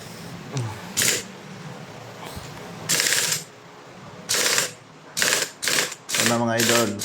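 A ratchet tightens the clutch lock nut on a Honda XRM motorcycle in several short bursts of rapid clicking, separated by pauses, with a voice briefly heard near the end.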